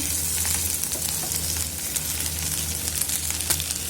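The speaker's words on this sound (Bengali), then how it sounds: "এই মাংসটার ভিতর একদম ভাজি যাচ্ছে" Beef pieces fry in a pan for a Bengali fried beef dish, a steady, dense sizzle with scattered pops and faint stirring scrapes, close and continuous throughout, with no talking.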